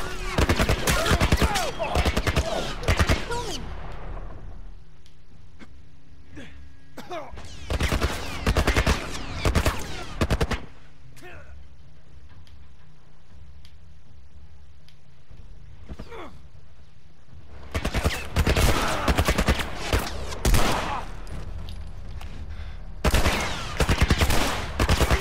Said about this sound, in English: What kind of shooting was that?